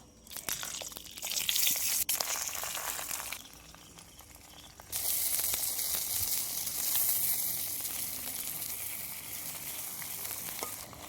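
Malabar spinach leaves coated in spiced batter frying in hot oil, a bright crackling sizzle that surges, drops back, then returns loud and steady with occasional pops.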